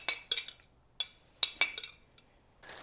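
A spoon clinks and scrapes against a dish while spreading red pizza sauce over a low-carb cauliflower pizza crust, giving several sharp, close metallic taps in an irregular rhythm with quiet gaps between them.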